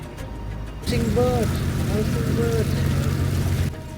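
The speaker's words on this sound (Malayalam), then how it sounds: "കായലിൻ്റെ കൈവരയിലൂടെ പതിയെ ബോട്ട് നീങ്ങിക്കൊണ്ടേയിരിക്കുകയാണ്" A passenger boat moves slowly along Alappuzha–Kottayam backwaters with a steady low engine drone that thickens after the first second, while a person talks over it.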